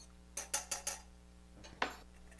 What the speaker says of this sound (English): And whisk it together until it's smooth and the oil isn't separated.